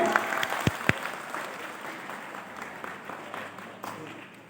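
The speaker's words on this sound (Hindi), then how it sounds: "जोरदार तालियां हो जाए।" Audience applause at a church welcome ceremony for a new bishop in Jalpaiguri Diocese, fairly faint, steady clapping from a crowd with a couple of sharper claps near the start, fading away.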